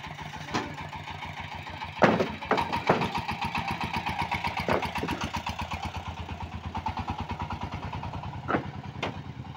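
A Changfa diesel engine on a loaded motor van runs at idle with a steady, rapid low chugging pulse, close and moderately loud, broken by a few sharper knocks and clatters.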